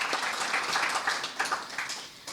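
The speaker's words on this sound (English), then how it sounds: "I think deserves a huge round of applause" An audience at a Caribbean licensing event breaks into steady clapping, a continuous wash of many hands that holds at an even level the whole time, with no talk over it.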